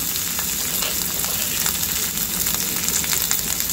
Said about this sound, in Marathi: आणि याला छान हलकंसं परतून घ्यायचं आहे, याचा कच्चेपणा जातपर्यंत